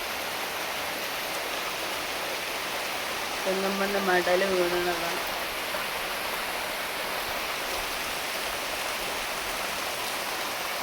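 Heavy rain pours steadily outside a house fronted by big trees, a dense, even hiss that runs the whole time, with someone speaking briefly over it midway.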